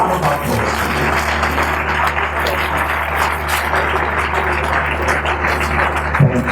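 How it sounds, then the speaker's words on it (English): Audience applause at a Port Harcourt speaking event, a steady dense patter of clapping from a crowd sustained throughout, fairly loud and continuous. "A round of applause."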